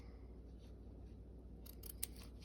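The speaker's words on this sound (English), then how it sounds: "I'll take the bottom here and I'll cut" Scissors snip slits into the bottom of a cone gnome craft piece: after a quiet, humming pause, a quick cluster of three or four faint, crisp cuts comes close together near the end.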